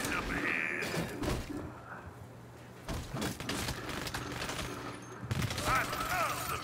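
Gunfire in the Saints Row video game: rapid bursts of shots and heavy thumps cut through a dense, loud game soundscape, with clusters of fire coming in irregular waves.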